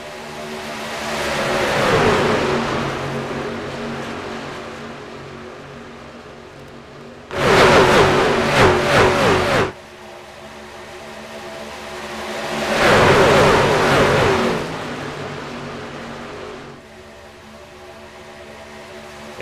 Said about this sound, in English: these trucks come screaming on by